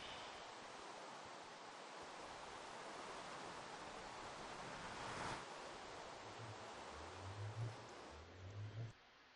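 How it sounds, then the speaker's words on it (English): Steady heavy rain in the fantasy game Ars Magica 2, a broad even hiss throughout with a brief swell midway and a few low rumbling tones near the end. "Oh, the rain."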